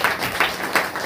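A church congregation claps hands together in a steady rhythm during a worship meeting, with about three loud, full claps in quick succession and no talking over them.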